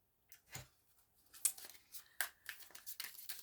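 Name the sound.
tarot cards being shuffled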